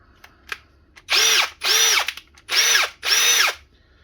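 Four short bursts of a Ryobi cordless brushless hammer drill whirring up and down, separated by brief pauses, close and fairly loud with no talking.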